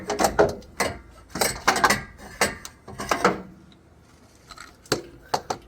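Ratchet clicks and clanks on torque converter bolts during a 1986 Cutlass LS swap, in short irregular bursts of metallic ratcheting with pauses between them, close and fairly loud, with no talk.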